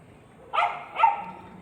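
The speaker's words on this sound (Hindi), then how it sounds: "काहे भौंक रही हैं?" A dog barks twice in quick succession, two short, fairly loud yaps against a quiet background with no one speaking.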